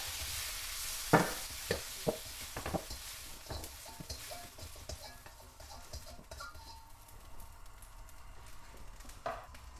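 Vegetables being lifted out of a sizzling pan for chicken shashlik, steady frying hiss with a handful of sharp clinks and scrapes from the utensil early on, close and moderate in loudness, with no talking.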